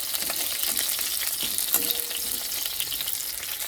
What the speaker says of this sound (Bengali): এই যে কড়াইতে রয়েছে আরও এগুলোও হয়ে গেছে ভাজা এখন তুলে নেব